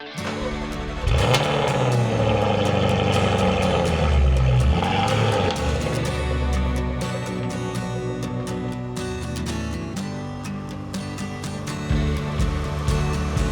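A Jaguar F-Type sports car's engine growls and revs as the car is driven around on a home driveway, a loud throaty roar swelling early, then settling into a steadier rumble with further blips, no talking.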